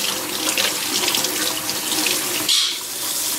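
Kitchen tap running steadily into a sink while salmon is rinsed under it, a close, continuous splashing rush of water with a brief change in the flow partway through.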